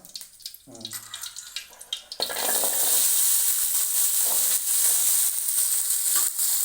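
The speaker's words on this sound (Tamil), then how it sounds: "வெங்காயம் வறுக்கிறதுக்கு கொஞ்சம் எண்ணெய் ஊற்றிக்கிறோம். வெங்காயம் வதக்கணும்." Small onions hit hot oil in a pan and burst into a loud, steady sizzle that continues to the end, after a few seconds of quieter kitchen clatter.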